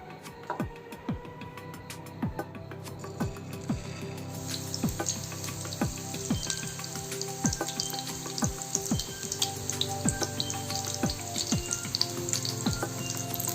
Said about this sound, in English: When they turn golden, flip them to the other side and fry.